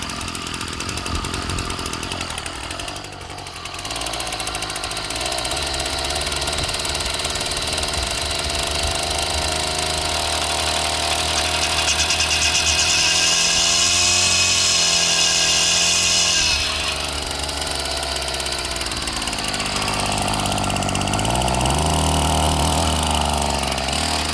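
A Ryobi 740r gas-powered yard tool engine runs after winter storage, a loud, steady, close buzzing drone with a brief dip near the start and a rising rev toward the middle before settling back, no talking.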